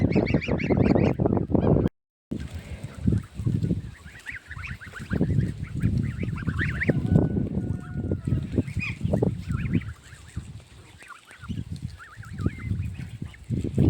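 A flock of geese honks loudly and continuously up close on a farm, with overlapping cackling calls forming a busy, noisy chorus throughout.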